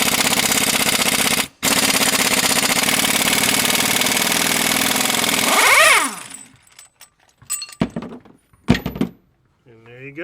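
An engine is cranked to break loose a harmonic balancer bolt, giving a loud sustained starter churn that briefly cuts out, then stops abruptly, followed by scattered clinks and faint handling noises.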